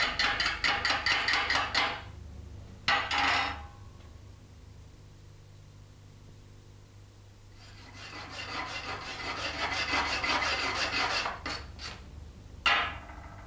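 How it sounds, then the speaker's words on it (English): A chipping hammer knocks slag off a fresh arc weld bead, giving bursts of rapid scraping, rasping strokes with a sharp knock, separated by quiet pauses and close to the listener. "Eye protection is essential when using the chipping hammer to remove the slag left on the weld"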